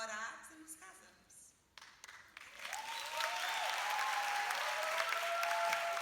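Audience applause at a church seminar rises after a few seconds of speech and tones, then continues as a dense, steady clapping from a large crowd with a tonal sound running through it.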